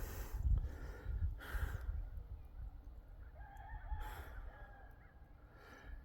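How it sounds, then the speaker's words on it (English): Neighbors' roosters on a homestead crow at a distance, a couple of drawn-out calls rising over a low rumble of outdoor background noise. "everybody's roosters is crowing today."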